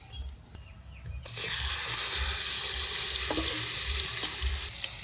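Spice tempering of reddened fried onions is poured into hot oil at an outdoor picnic cook-up, bursting into a loud, continuous sizzle that holds steady for several seconds after a quieter opening.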